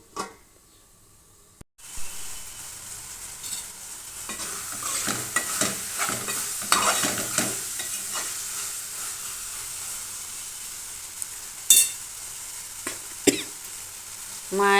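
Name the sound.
stirring and cooking mutton biryani in a covered pot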